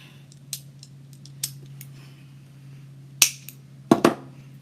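Scissors snip through patterned ribbon on a handmade spring bow, a few sharp close cuts, with a brief cluster near the end, over a low steady hum.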